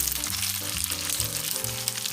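Spaghetti being mixed in a pan with garlic, oil, onion powder and garlic powder, a loud steady sizzle with rhythmic scraping and tossing strokes recurring through the stretch, close up.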